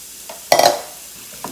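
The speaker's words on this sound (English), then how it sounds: "once our oil is hot, we're going to add our chili and onion and garlic" Chili, onion and garlic land in hot oil with a sudden short burst of sizzling that quickly fades, bracketed by a couple of quieter kitchen clinks, close and alone.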